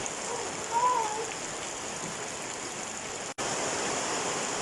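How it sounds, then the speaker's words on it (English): Steady, dense rain in the Amazon rainforest hisses evenly throughout, a broad wash of falling water with no voices, briefly cut by a momentary dropout near the end. "So I'm quite glad to see the rain."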